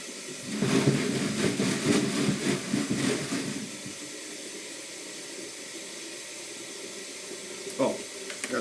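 Tap water pours close by into a Frankford Arsenal wet tumbler drum to rinse brass cartridge cases, gushing for a few seconds before easing into a quieter trickle and swish.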